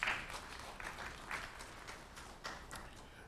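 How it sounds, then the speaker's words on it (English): A studio audience on a morning television talk show gives a round of applause, a faint, steady patter of many hands clapping for a few seconds with no one talking. "Let's give a round of applause."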